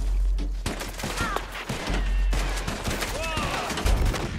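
Varmint rifle gunfire in the video game Red Dead Online during a hardcore shrinking-area match, a rapid cluster of sharp shots over a loud game backdrop while a player talks excitedly.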